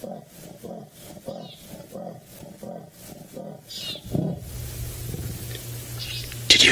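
A wild leopard in Africa gives its rasping sawing call, a rhythmic series of about ten hoarse grunting strokes at a distance, followed by rustling and ambient noise.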